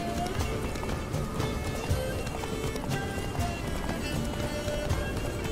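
Horse hooves galloping in The Witcher 3, a steady rhythmic clip-clop at moderate volume mixed with game ambience and music, no voices.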